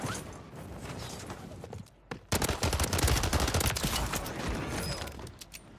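Super 10 submachine gun firing in a video game: rapid, sustained bursts of automatic gunfire, a brief pause near the two-second mark, then a longer loud continuous burst.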